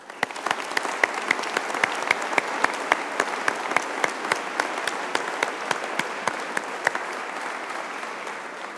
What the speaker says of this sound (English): can I ask you all to join me in applauding their success too?